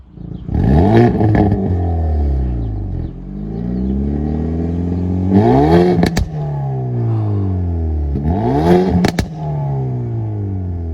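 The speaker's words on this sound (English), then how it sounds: "I'm gonna go ahead and let you hear how the exhaust sound like" A 2020 Hyundai Veloster N with the performance package revs its exhaust hard three times, rising and falling between deep burbling idle stretches, loud and close.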